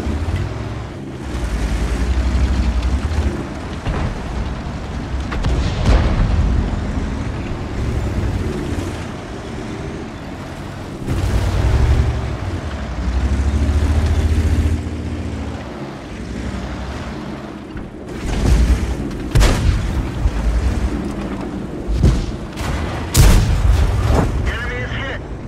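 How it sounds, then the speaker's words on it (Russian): Tank cannon fire in a tank video game, several heavy booming shots with low rumbling engine and ambient noise between them, and sharp reports clustered toward the end. "Орудие готово к стрельбе."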